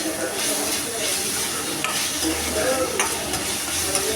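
Tomatoes sauté in a pan for a fish curry while a spoon stirs them, giving a loud, steady sizzle broken by scraping stirs, with no talk.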